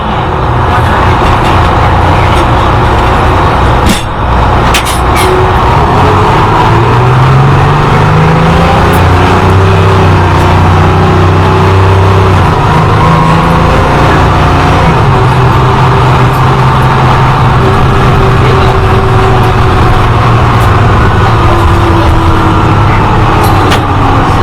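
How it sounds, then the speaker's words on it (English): A heavy Detroit Diesel 6V92 bus engine with an Allison HTB 748 transmission drones steadily and loudly, its pitch rising and falling as it accelerates and shifts, with no talking. "These buses were also equipped with a Detroit Diesel 6V92 and an Allison HTB 748."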